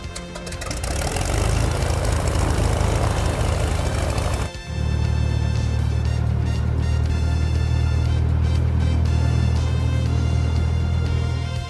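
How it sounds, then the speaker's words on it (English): Propeller aircraft engine in a flight video game throttling up to full power for takeoff, a loud sustained drone with strong low rumble that briefly dips, then returns steadier and heavier, with no talk. "Push the throttle control toward maximum."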